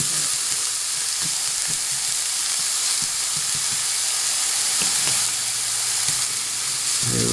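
Small pieces sautéing in a hot pan before spinach goes in, a loud, constant hiss of frying with occasional spatula taps and stirring knocks close by, no talk.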